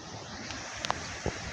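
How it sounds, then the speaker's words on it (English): Heavy wind blowing, a constant broadband roar like surf, with a few brief faint knocks and clicks over it, all within a very short stretch. "The heavy wind."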